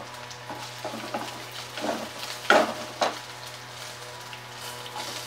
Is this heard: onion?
yes